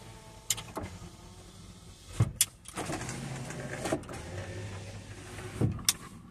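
Power windows of a Hummer H2 with under seven thousand miles whir up and down in turn, each motor run ending with a thunk as the glass seats, heard close inside the cab without speech.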